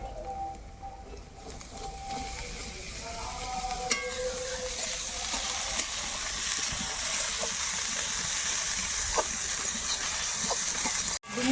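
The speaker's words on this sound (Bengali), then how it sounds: "সিদ্ধ রাখা ডিমুরগুলো এবার আমি দিয়ে দেবো কড়াইয়ের মধ্যে" Boiled eggs go into a hot wok (kadai) with green chillies and spices, setting off a dense, steady sizzle that swells slightly, with faint stirring taps and a sharp knock near the end.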